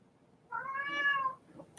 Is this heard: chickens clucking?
no